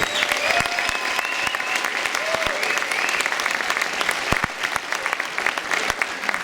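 A press conference audience at the Mr. Olympia weigh-in gives steady applause, many hands clapping densely and evenly throughout, with a few sharp individual claps and faint voices beneath.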